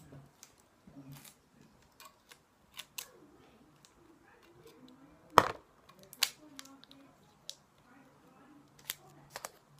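Scissors snip off bits while LED lights are fitted to a scooter, giving a scattering of sharp close clicks and cuts spread irregularly through a quiet room, with one louder snap near the middle.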